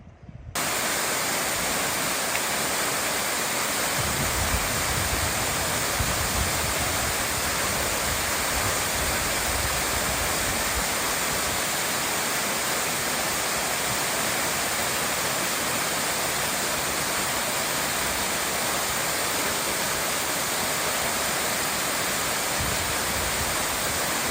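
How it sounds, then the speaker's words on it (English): A waterfall in the woods near Valdez, Alaska, roars steadily as a dense, unbroken rush of falling water, loud and constant throughout. "y'all see the waterfall up there? It comes right down through the woods here"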